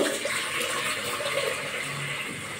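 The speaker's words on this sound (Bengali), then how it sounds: "গামলা বাটির মধ্যে গরম জল দিয়ে দেব" Hot water pouring into a basin-style bowl, a continuous close splashing rush of liquid with steady bubbling texture throughout, no voices.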